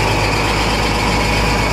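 Engine belts squeal on a truck in snowy cold, a loud continuous whine over the steady engine drone, unbroken for the whole moment.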